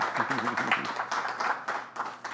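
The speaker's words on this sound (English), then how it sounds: "can we give him a round of applause?" An audience at a fireside chat claps to welcome guest Enrique Godreau, a fairly close, even patter of hands that carries on after a voice speaks briefly at the start.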